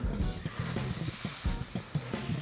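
A salted and peppered steak hits a hot skillet for steak pizzaiola, giving off a steady, close broadband sizzle with faint irregular clicks and pops running underneath.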